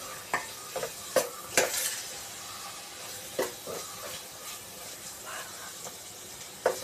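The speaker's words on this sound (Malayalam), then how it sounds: "ഇത് നന്നായിട്ട് ഇളക്കി കൊടുക്കാം. ഇത് കരിയാതെ നോക്കണം, അടിക്ക് പിടിക്കാതെ നോക്കണം." Tomato pickle is stirred in a pan while it cooks, with sporadic scraping and clinking spoon strokes over a soft, steady sizzle, close and fairly quiet with no talking.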